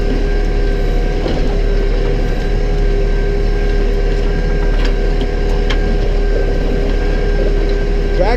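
A tractor plows a food plot, its engine a loud, constant drone with faint mechanical rattling over it, and no talking.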